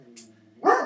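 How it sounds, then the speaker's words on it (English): A pet dog gives one sharp, close bark at the end of a short stretch, following a faint tonal hum and a brief hiss, indoors during a nursing lecture on respiratory assessment. "don't mind my dog"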